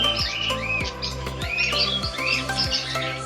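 Zoo aviary birds, with cockatiels among them, chirp and whistle in quick rising and falling calls, several overlapping tweets repeating close by over a steady background.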